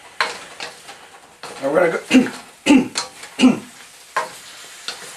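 Thanksgiving stir fry with potato chips and stuffing tossed in a pan, giving several distinct scraping stir strokes over a light sizzle, close by, with someone talking between them.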